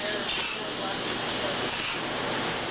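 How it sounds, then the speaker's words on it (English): Expanding foam insulation hisses steadily as it sprays into a wall cavity bay by bay, a continuous close airy spray running throughout. "They go bay by bay, spraying the foam in"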